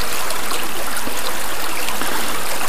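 A winter stream, swollen several times its usual size by snowmelt, rushes loudly and constantly near at hand, with a dense hissing wash of water and no pauses.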